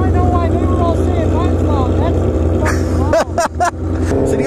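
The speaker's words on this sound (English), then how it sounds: "Both of our muffs are so goddamn loud, can't hear anything." The engine of a Kawasaki Z1000 motorcycle with loud aftermarket exhaust mufflers hums close and constant at a bike night. Speech runs over it, and a few sharp bursts come near the end.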